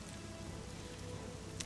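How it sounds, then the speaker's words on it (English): Steady rain from the video game Silent Storm patters continuously in a soft, even hiss with no breaks. "Double rain all the way across my screen."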